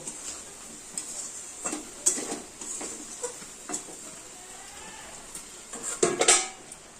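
A lid is set over a cooking pan of vegetables and paneer, giving a couple of sharp metallic clinks and rattles among quieter scattered kitchen taps.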